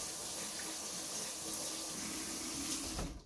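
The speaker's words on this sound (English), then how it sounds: "Make sure the water is filling all the cavities in the jar" Tap water pours steadily into a glass canning jar packed with pears, a close, even rushing splash that runs for about three seconds before cutting off.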